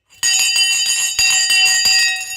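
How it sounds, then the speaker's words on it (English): An electric stock market closing bell rings loud and close for over two seconds, a sustained bright metallic clang with a rapid repeating clapper rhythm and steady high ringing tones, alone with no talk. "Okay, the bell has now gone."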